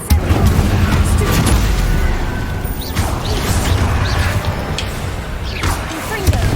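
Confringo explosive spell cast repeatedly in the video game Hogwarts Legacy, a dense run of booming blasts and crashing impacts layered over continuous rumbling game noise, loud throughout with no clear gaps.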